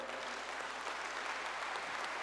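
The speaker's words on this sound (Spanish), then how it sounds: "Por favor, un fuerte aplauso." Audience applause at a municipal government report event in Acajete, Puebla, a dense steady wash of clapping hands filling the whole stretch at a fairly even level.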